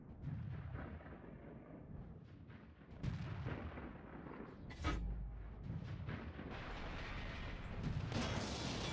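A tank cannon shot in World of Tanks, the SU-5 on the Himmelsdorf map, lands as a deep heavy boom amid rumbling battle ambience that continues at a moderate level.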